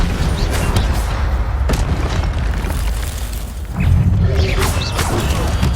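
Incendio fire spell cast in Hogwarts Legacy, a loud, booming burst of fiery whoosh and rumble amid constant combat noise, with a second swell of blazing roar later on.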